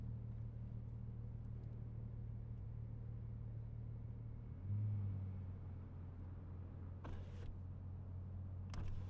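Steady low engine drone of a car driving in Cyberpunk 2077, a constant rumble with a brief swell midway and a couple of short sharp transients near the end, no talk.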